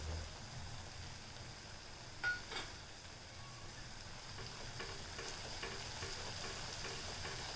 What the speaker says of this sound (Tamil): இப்போ இது நல்லா பொரிஞ்சு வந்துருச்சு. கொஞ்சம் எண்ணெய் பிரியவும் ஆரம்பிச்சிருச்சு.